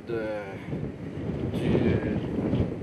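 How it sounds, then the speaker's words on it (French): Strong wind gusts buffet the microphone by the sea on Miquelon-Langlade the day after storm Fiona, a loud rumbling roar that swells and builds, with a brief voice at the start. "il faut lutter contre le vent"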